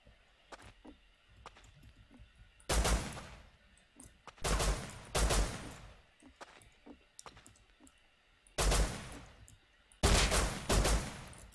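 Gunfire in the video game Rust, with bursts of rapid shots cracking out in clusters of two or three, loud and sharp against quieter clicking, while a player talks between the bursts.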